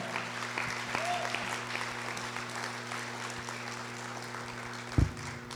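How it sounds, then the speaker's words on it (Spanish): Church congregation applauding the Lord, a soft steady wash of clapping under a low background hum, with a brief knock near the end. "denle un aplauso al Señor"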